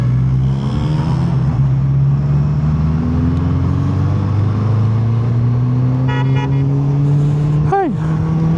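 A car horn gives a short honk near the end, rising out of steady road and engine rumble in traffic.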